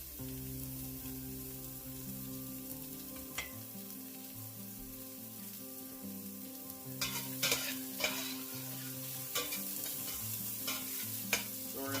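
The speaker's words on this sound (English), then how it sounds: "Let this saute a bit. Get it a little bit soft" Vegetables sauté in a pan for a homemade pasta Bolognese, giving a steady sizzle with scattered scrapes and stirring clatter, louder utensil hits toward the end, all close and without talk.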